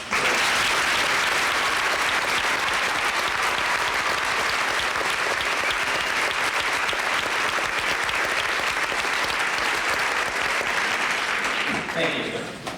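A final round of applause at a 1999 senior class assembly in a high school, loud and dense from a large crowd of students, sustained for about twelve seconds before breaking off abruptly at the end.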